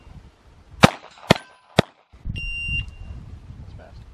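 Three sharp gunshots ring out in quick succession at a shooting competition, each a loud crack with a short echo, followed by a brief electronic beep and muffled movement and murmured voices.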